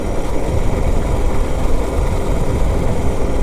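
A Suzuki DR650 motorcycle rides slowly along a valley road, giving a steady, dense low rumble mixed with broad wind noise, unbroken and fairly loud throughout.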